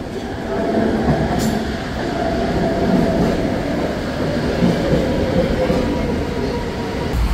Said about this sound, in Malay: MRT system